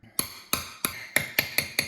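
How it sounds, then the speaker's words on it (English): A small hammer taps a 15mm socket to press a part into a Banshee engine case during a clutch and water pump install, seven sharp metallic knocks at an even, slightly quickening pace, close and clear. "I'm gonna take a 15mm socket and a little hammer"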